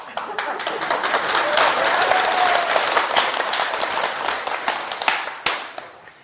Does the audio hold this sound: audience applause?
yes